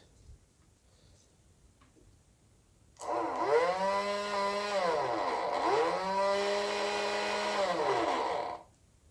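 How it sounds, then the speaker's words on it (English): A portable car jump starter and air compressor kit switches on abruptly and runs with a loud, steady motor hum that wavers slightly in pitch for several seconds, then cuts off. "now you've heard the air compressor kit come on"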